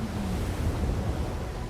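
Deep, rushing roar of giant ocean waves breaking at Nazaré, heard alone as a continuous wash of surf with some wind noise.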